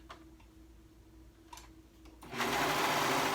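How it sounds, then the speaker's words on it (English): A serger runs along the raw edge of soft, stretchy baby fabric, preceded by light ticking and handling sounds, then whirring into a steady, loud, close machine hum for the last second. "I am going to serge that raw edge"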